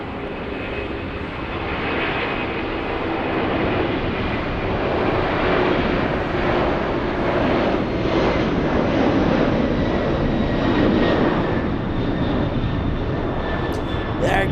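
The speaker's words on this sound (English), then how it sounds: "There goes the 747. You gotta love the CF6s." A Boeing 747-8 jet with CF6 engines passes at LAX, a steady loud broadband engine roar that holds strong and close throughout with a slight swelling whine.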